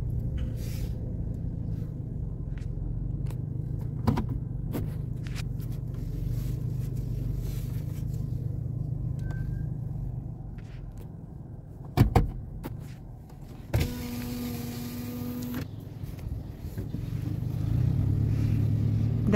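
Cars pass along a road in Al Swaib, UAE, their engines a steady low rumble rising and fading, with a few sharp knocks and a brief louder whoosh near the middle, and no voices.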